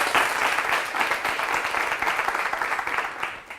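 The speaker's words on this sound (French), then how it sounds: "Mais on l'applaudit très fort." A short burst of studio audience applause on a French-language television game show, lively and fairly close, with clapping that swells and pulses slightly throughout.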